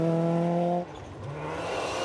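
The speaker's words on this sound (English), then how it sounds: "Great to see David Holder pushing the Holden Marina hard." A Holden Barina rally car at a New Zealand rally stage howls past at high revs, its strained engine note cutting off abruptly before a rougher growl and tyre noise build again as it drives away.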